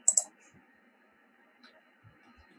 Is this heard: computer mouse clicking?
yes